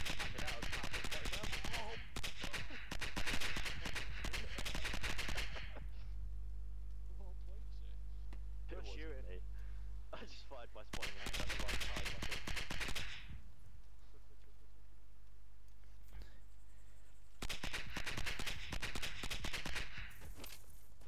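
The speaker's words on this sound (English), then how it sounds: "the hell was that magnificent explosion?" Heavy bursts of automatic gunfire and explosive blasts from a military shooter video game come in loud, dense stretches broken by quieter gaps with faint voices.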